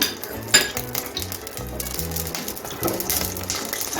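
Green chillies sizzle and crackle in hot mustard oil, with a steady frying hiss and a few sharp pops, close by, with light clinks of a utensil.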